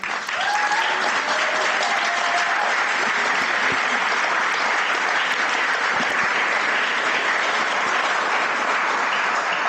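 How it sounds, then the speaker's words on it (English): Sustained audience applause for the keynote speakers at an evening panel Q&A, a loud, even, dense wash of clapping lasting throughout with a few faint voices mixed in. "I'd like to give a lot of applause to our keynotes here."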